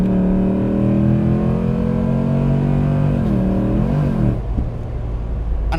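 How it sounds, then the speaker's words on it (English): A deep, loud V8 engine in a 2022 Overfinch Heritage Field Edition roars steadily under hard acceleration, its pitch climbing and dipping before it settles into a lower rumble. "normally that offbeat, lovely, lazy V8 sound, and then put your foot down"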